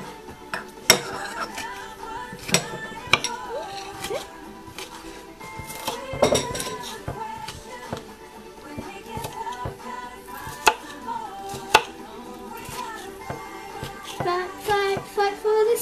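Orange butter being mixed for turkey stuffing gives off irregular knocks, taps and clinks of a utensil against a bowl, close and moderately loud, with brief louder thuds scattered throughout.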